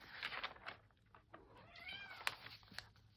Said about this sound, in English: My daughter's cat is saying hello.